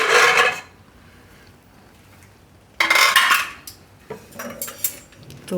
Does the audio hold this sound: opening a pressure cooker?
yes